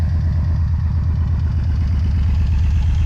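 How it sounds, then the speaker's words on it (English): A Yamaha Vmax motorcycle engine idles steadily after a wash and a starter motor replacement, giving a deep, even, loud throb close up with no talk. "just running the engine to make sure there's no water sitting on the engine anywhere before I put it away."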